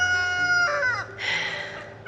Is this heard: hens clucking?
yes